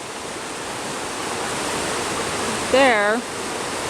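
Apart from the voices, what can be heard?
hot water pouring from a tube into a mortared hot pool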